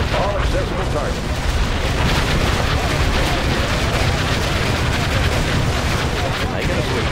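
A Comanche helicopter firing rockets in Generals Zero Hour, heard as a dense, continuous roar of blasts and explosions that stays loud throughout, with faint voices mixed in.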